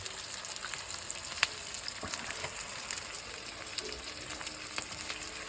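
A washed goat head goes into onions frying in oil for a masoor dal curry, giving a continuous crackling sizzle with scattered sharp pops and occasional stirring scrapes, fairly quiet and close.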